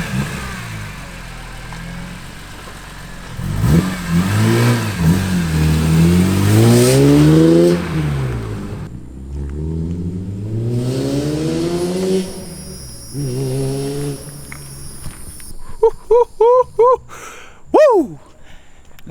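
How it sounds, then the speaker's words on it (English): A BMW E46 M3 fitted with catless headers revs in loud rising and falling sweeps, then settles toward idle before a few sharp blips near the end, with voices in the background. "we're letting the car warm up before we decide to rev it and then take it for a drive"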